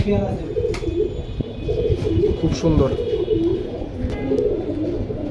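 Khaki military pigeons coo in soft repeated throaty calls close by, with a voice talking over and between them.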